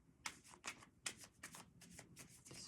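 A deck of cards shuffled for a reading, close and quiet, in about eight quick papery riffles and slaps at a steady rhythm, with no voice.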